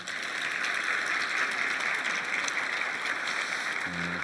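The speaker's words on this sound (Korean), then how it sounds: "박수 한번 주십시오" Steady audience applause at a regional high-tech industry vision briefing in Korea's Chungcheong region, a dense even clapping wash that holds for several seconds before a brief low tone enters near the end.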